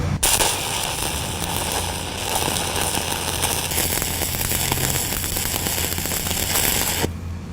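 Electric arc welding with 5/32 rods at about 131 amps in the 1G position gives a continuous, close, harsh crackling and sizzling that runs steadily until it cuts off near the end.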